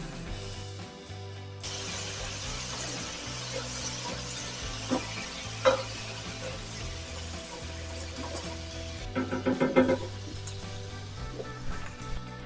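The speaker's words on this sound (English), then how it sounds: "add 1 heaping tablespoon of crushed garlic. And give it a good stir." Crushed garlic and onions sizzle in a skillet as they are stirred, with a hissing bed of frying broken by metallic scrapes and clinks that cluster near the end.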